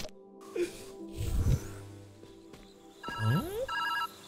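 A telephone rings in the puzzle video game Viewfinder, a short electronic trill with a rising tone near the end, heard amid other soft game sounds and low thumps.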